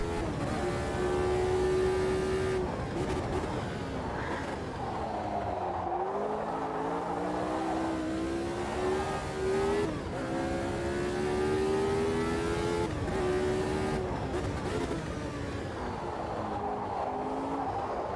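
A high-revving Formula 1 car engine in the racing game Automobilista 2, droning continuously, pitch climbing and dropping through gear shifts, loud and close throughout with no talking.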